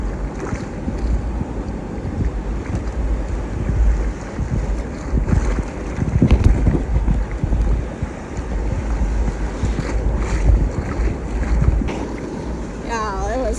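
Rough ocean waves wash onto a Florida beach in a continuous heavy roar, mixed with strong wind buffeting the microphone, loud and near throughout.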